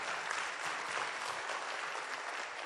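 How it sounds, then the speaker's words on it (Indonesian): A brief burst of dense, steady applause from an audience at a network marketing seminar, many hands clapping at once without pause, fairly distant and even. "Tepuk tangan dong buat kita semua ya."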